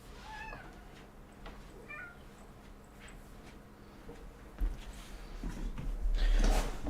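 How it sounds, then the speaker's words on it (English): A domestic house cat meows several times near the microphone, short rising cries spaced apart, followed by louder rustling and handling noises toward the end. "this is my cat Tally."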